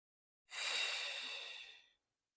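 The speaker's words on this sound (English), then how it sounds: "Take a few deep breaths to start." A single deep breath taken at the start of a hatha yoga practice. It is one long, close, airy exhale lasting about a second and a half, with silence before and after it.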